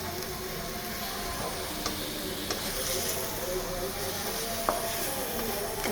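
Masala sautés in a pan for restaurant-style butter chicken, a dense, even sizzling hiss that runs throughout, with a few faint clicks and ticks rising over it.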